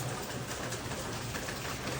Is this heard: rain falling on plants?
yes